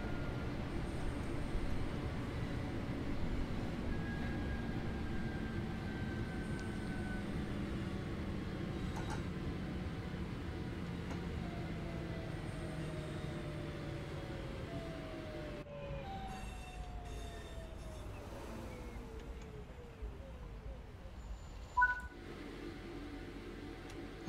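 A train on the Birmingham Cross City line in Train Sim World 3 drives along with a steady low rumble and electric motor whines that rise and fall in pitch, and one faint knock near the end. No talking.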